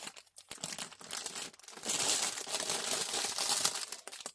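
Tape being torn and pressed onto a yarn craft project, a steady crinkly tearing and rustling that runs close and continuous for several seconds with no talk.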